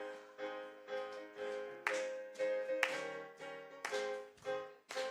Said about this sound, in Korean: 우리 기쁨으로 박수 치면서